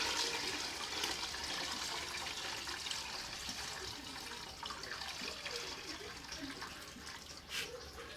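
Palm nut liquid for banga stew poured through a sieve into a pot, a steady splashing, trickling pour that continues throughout at moderate distance, with no speech.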